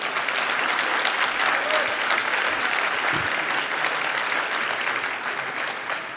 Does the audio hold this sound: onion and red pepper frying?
no